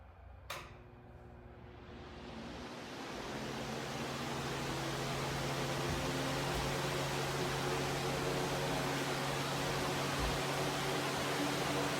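A Utilitech metal box fan running on its low setting, a steady broadband whoosh with a faint motor hum that starts with a click and swells into an even, continuous drone.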